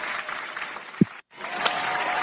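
A round of applause from a small group on a podcast set, steady clapping interrupted by a brief thump and a momentary cut to silence before the clapping resumes.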